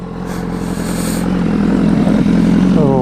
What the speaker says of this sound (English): BMW S1000RR Premium Package 2016.